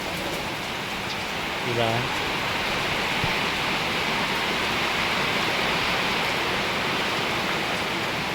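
Rain falls steadily beside a corrugated metal roofing sheet, a dense, even hiss throughout, with a brief spoken word early on.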